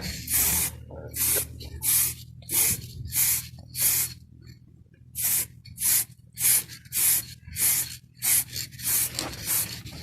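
An aerosol spray-paint can hisses in short repeated bursts, a light first coat on old BMW E34 520i brake parts, about a dozen evenly spaced sprays with brief pauses, close and clear.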